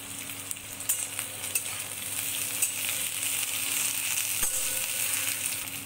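Chopped onion, green chilies and three large garlic cloves fry in oil in a kadai, giving a steady close sizzle with a few faint clinks and scrapes along the way.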